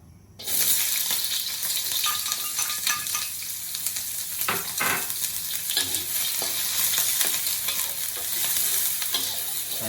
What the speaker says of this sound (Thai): เดี๋ยวเราจะเจียวหอมก่อนนะครับ